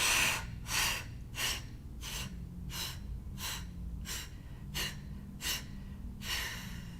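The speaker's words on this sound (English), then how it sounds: "So inhale deep and push it out." Forceful yoga exhalations, a series of about nine strong breath bursts at a steady rhythm close to the microphone over a low background hum.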